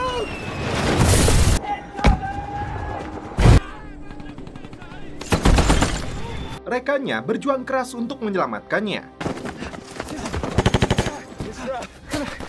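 Bursts of gunfire and mortar blasts in a war film battle scene against Irish troops, loud explosive impacts and rapid rattling shots alternating with a dramatic music score, while a narrator talks over the action.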